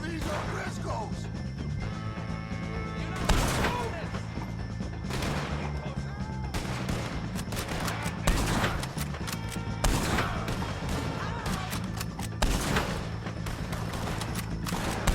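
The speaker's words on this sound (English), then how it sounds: "Take a shot on these O'Driscolls!" Gunfire at O'Driscolls in Red Dead Redemption 2, sharp scattered shots spaced a second or two apart over a constant rumbling music-and-ambience bed, with voices shouting in the mix.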